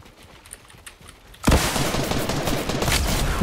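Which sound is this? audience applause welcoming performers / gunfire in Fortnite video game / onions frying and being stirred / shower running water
gunfire in Fortnite video game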